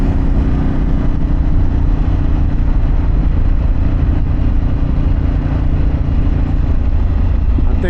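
Harley-Davidson Pan America adventure motorcycle fitted with Akrapovic and Vance Hines exhausts, riding along steadily with a continuous loud engine drone and wind rush, no pauses throughout.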